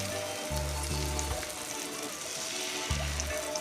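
Eggs and potato pieces fry in a pan for a potato egg cheese butter dish, giving a steady close sizzle with a low crackling hiss throughout.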